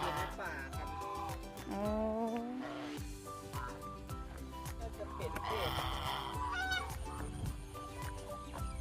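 Ducks honk and quack in loud, ragged calls close by outdoors, mixed with people talking.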